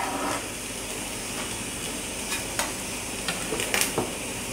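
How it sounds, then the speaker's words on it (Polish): Vegetables for a roasted pepper soup fry in hot fat, giving a steady sizzle. Now and then a spoon clicks as they are stirred. Close and moderately quiet, with no voices. "Tu już dajemy na rozgrzany tłuszcz. Niech to się przysmaża. Należy to mieszać."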